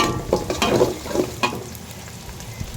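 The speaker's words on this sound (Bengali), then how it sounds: "তেলের গরম হয়ে গেছে তো, এখন পেঁয়াজ দিয়ে দিলাম, গরম মশলা দিয়ে দিলাম" Onion and whole spices such as cloves, cinnamon and bay leaf hit hot oil for a Bengali jackfruit curry, giving a close crackling sizzle with a few sharper spits that settle into a softer fry.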